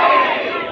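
A large crowd at a religious gathering shouts a slogan in unison, a loud dense roar of many voices filling the whole brief moment.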